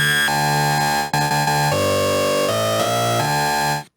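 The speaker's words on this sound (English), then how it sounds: "We're getting some sort of gritty lead type sound here." A gritty lead synth from the Rob Papen QUAD software synthesizer plays sustained, harmonically rich tones that step between pitches, loud and alone, with a brief cut near the start of the second second.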